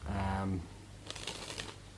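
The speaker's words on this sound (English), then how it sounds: "cards get shuffled up." A short burst of crisp riffling as playing cards are shuffled, after a brief low voice at the start.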